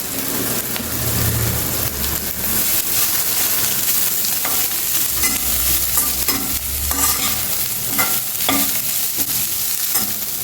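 Carrot and cabbage frying in a pan, a loud continuous sizzle with repeated stirring and scraping strokes and occasional clicks of the spoon, close by throughout with no talking.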